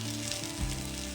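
Ragi vermicelli cooks in water in a pot, giving a steady, faint, bubbling hiss with a brief soft gurgle partway through.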